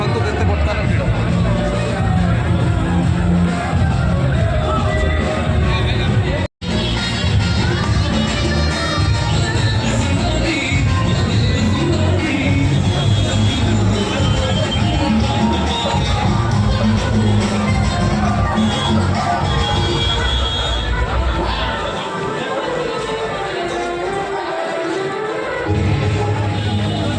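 A dense crowd gathered for a village folk drama performance, its loud, continuous babble of many voices filling the air with occasional shouts, thinning slightly toward the end.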